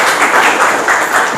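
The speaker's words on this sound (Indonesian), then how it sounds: "ya kita aplaus dulu ya" Audience applause in a classroom or teaching session, a short dense burst of clapping close and loud, no talk over it.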